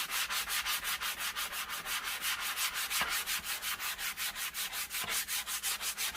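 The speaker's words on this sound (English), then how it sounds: "I'm going to use the soft side of the sanding block just to sand it" Sanding wood by hand with the soft side of a sanding block, following the grain: steady rhythmic back-and-forth rasping strokes, close and loud, about four per second, with no voices.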